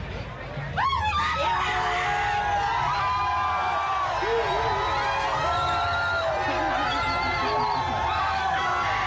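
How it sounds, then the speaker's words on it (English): Large crowd of fans yelling and screaming, a dense roar of overlapping shrieks, whoops and high cheers, loud and sustained after a short quieter start. "listen to the amount of people yelling my name out and just screaming for me"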